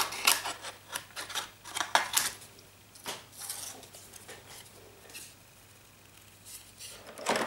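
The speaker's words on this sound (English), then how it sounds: "I'm going to use my scissors and then I'm going to fuzzy cut the little monster." Scissors snip around a small paper monster for a handmade card, a run of quick, close, crisp cuts in uneven clusters with short pauses between.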